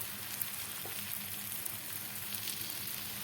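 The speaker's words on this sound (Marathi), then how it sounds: "फास्ट गॅसवरच आपल्याला हे धपाटं भाजायचं आहे" A Maharashtrian dhapate flatbread roasts on a pan over a high gas flame. A faint, even sizzle runs the whole time with no speech.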